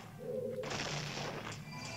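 A short tone gives way to a burst of noisy, crackling explosion blasts in The Legend of Zelda: Majora's Mask 3D, sustained for about a second before fading.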